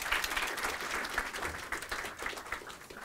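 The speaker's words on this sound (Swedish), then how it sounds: "En varm applåd." Warm applause from an audience at a release event for a school digital-learning platform, a steady dense patter of many hands clapping throughout, fairly loud and continuous with no talking.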